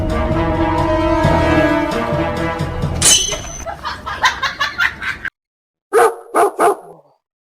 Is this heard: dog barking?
yes